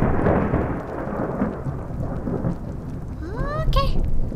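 Thunder rumbles through steady rain in a video game storm with lightning, the downpour loud and close, with a brief rising whistle-like sound near the end.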